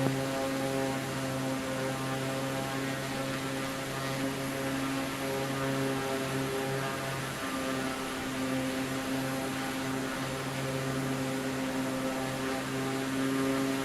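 A propeller aircraft engine held at 1900 RPM in Microsoft Flight Simulator 2024 drones steadily and loudly with a strong, even harmonic hum and little change in pitch, with no one talking.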